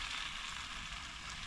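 Food sizzles and fries steadily in a pot over high heat, a dense continuous crackle close up with no talking.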